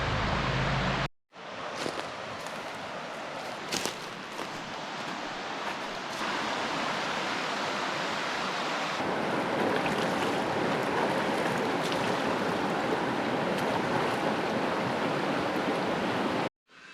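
A river rushes steadily beside a shady forest spot along the Western Cascades scenic route in Oregon, a continuous broadband wash of flowing water that stays fairly loud and even, with a short dropout near the start.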